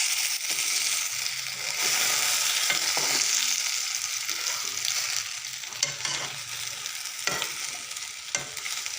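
Food frying in a hot pan while being stirred, a continuous bright sizzle with scraping strokes and occasional taps of the utensil, close and alone.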